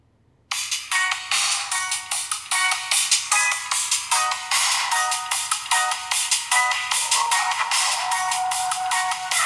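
A Cubot S550 Pro smartphone plays its ringtone very loudly through its speaker, a bright repeating electronic melody of quick plucked notes starting abruptly and continuing steadily, alone without talk.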